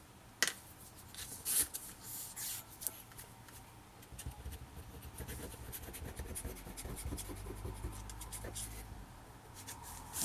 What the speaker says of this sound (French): Alors là, on va mettre la colle.